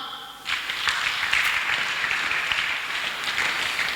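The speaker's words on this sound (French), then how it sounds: "On acclame." A church congregation breaks into applause during a French-language sermon, the clapping starting abruptly after a moment and continuing as a dense, sustained wash of many hands, fairly near and loud.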